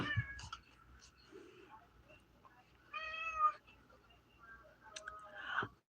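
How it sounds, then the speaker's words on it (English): A house cat meows while in the litter box, several faint, drawn-out meows spaced across a few seconds, heard close but quiet. "That's why he's meowing."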